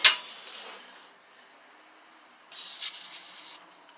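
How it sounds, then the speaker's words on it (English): Lubricant sprays in short hissing bursts onto the ABS sensor of a 2007 Ford Explorer during wheel bearing work: a brief spritz at the start, then a louder sustained one-second hiss, close and alone. "I'm gonna spray this ABS sensor like I already did, but I'm gonna hit it again."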